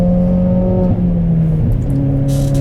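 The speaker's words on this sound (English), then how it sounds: "see me getting the engine nice and warm, get the engine up to temperature" A Ford Fiesta engine at Castle Combe race circuit on a wet track day, running loud and close with a steady drone and slight rises in revs as it warms up, with no voices.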